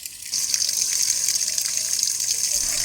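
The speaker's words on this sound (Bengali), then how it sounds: "তাই জল বেশ দূরে গিয়েই পড়ছে।" A small mini water pump with a strong motor forces water through a pipe, producing a steady close hissing gush of spraying water that starts abruptly and runs continuously without speech.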